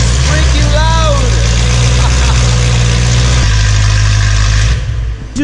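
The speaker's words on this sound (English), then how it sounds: "You can hear now the M3 is with the valves closed, and yeah, the idle is very quiet" A BMW E92 M3 with an Armytrix exhaust idles with its valves closed, giving a steady, close, constant low rumble with a faint whine riding over it.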